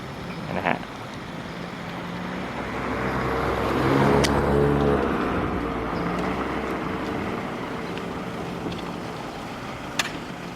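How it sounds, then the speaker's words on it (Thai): An electric vehicle converted from a 48-volt DC motor to a 48-volt AC motor, driving by with a rising and falling whine and road rumble that swells mid-clip, moderately loud, with a couple of sharp clicks and no voices. "เรานำของยี่ห้อขับคานะครับมา conversion จากระบบ DC มอเตอร์ 48 โวลต์เป็นระบบ AC มอเตอร์ 48 โวลต์นะครับ"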